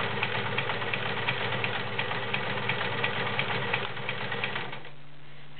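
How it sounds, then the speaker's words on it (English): A Kenmore 1341 convertible flat bed and free arm sewing machine runs a stretch stitch with a fast, even mechanical chatter close up, then winds down near the end. "Here's stretch stitch."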